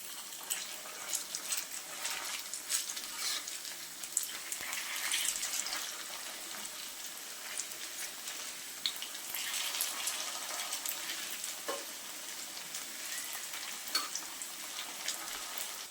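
Instant-noodle pakoras deep-fry in hot oil with a soft, continuous bubbling sizzle, fairly quiet and even throughout, with no talking.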